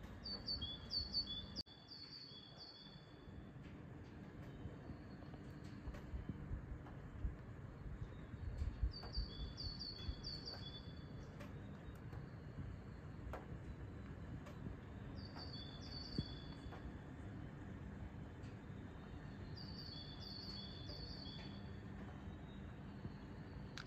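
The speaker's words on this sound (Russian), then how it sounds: "Пение птиц." Outdoors in a city at dusk, a bird repeats a bright, high chirping phrase at regular intervals of a few seconds, carried over a constant low background rumble.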